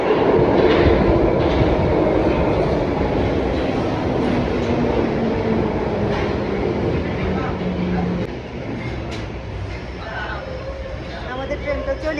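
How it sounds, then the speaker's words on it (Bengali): A London Underground train pulls into the platform with a loud, steady rumble and rail clatter that eases as it slows, heard close over the crowd babble and station noise. "আমাদের ট্রেনটা চলে আসছে"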